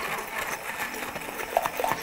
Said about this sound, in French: Et on va passer le tout au mixeur.